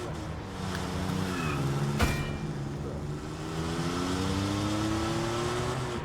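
A car drives in a video game, its engine holding a steady droning hum with gradual rises in pitch as it accelerates, plus a sharp thump partway through, loud and continuous with no talking.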